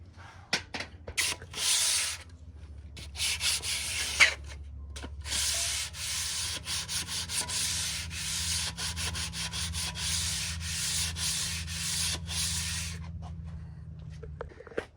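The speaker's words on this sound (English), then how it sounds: "thanks to Dad, we got all the gasket surfaces sanded down." Light-duty sandpaper rasps over the gasket surfaces of a 454 engine block with quick, repeated back-and-forth strokes, loud and close, in a nearly continuous run of short bursts with a low hum underneath.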